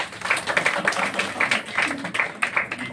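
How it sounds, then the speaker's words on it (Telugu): Audience clapping, a steady run of many hands at a spiritual talk, loud and continuous for several seconds, with a voice faintly underneath. "చప్పట్లు కొట్టండి ఒకసారి"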